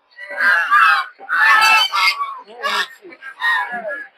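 Ducks or geese kept for sale give loud, repeated nasal honks in a series of bursts that follow one another closely across the clip.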